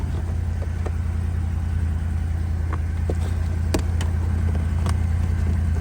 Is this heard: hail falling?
no